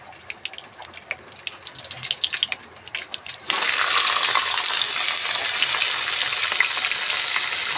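Green chilli, onion and spiny gourd frying in a pan, a quiet clatter of stirring at first, then a loud, steady, dense sizzle once the vegetables hit the hot oil and carries on to the end.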